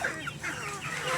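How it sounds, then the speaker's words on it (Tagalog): Chickens cluck in short bursts while being fed, close by and fairly loud, the calls overlapping in a busy, uneven rhythm. "At ito pakakainin natin yung ating mga alagang manok."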